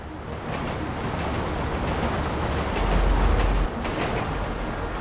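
A train in Grand Theft Auto 5 rumbles past with a steady heavy low roar and faint rail clatter, growing slightly louder near the middle before easing off.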